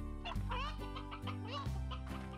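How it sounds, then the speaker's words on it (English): Chickens and a rooster cluck repeatedly in the Slime Rancher video game, with short rising and falling calls over a steady musical background. "And then I've got this extra rooster that's just like chilling."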